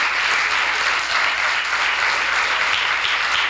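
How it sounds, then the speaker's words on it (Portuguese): A church congregation applauds in a dense, steady wash of clapping. It stays loud and even from start to finish, with no break. "Aplauda o Senhor Jesus para acordar."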